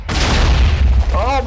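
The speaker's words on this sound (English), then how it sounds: "Let's let off your firework now!" Fireworks launch in Minecraft, a single loud, close boom with a crackling burst that fades within about a second and a half, with a bright voice exclaiming over its tail.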